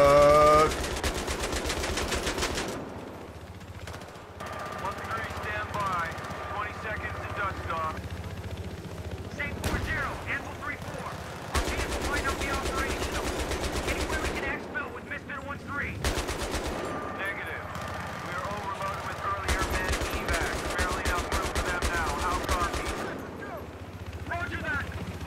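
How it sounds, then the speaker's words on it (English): Rapid automatic gunfire rattles in Battlefield 3, loud sustained bursts broken by brief pauses, with a player talking over the shooting. "I don't know if you're friendly, so I'm gonna shoot you!"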